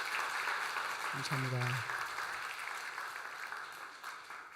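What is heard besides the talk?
congregation applause welcoming new members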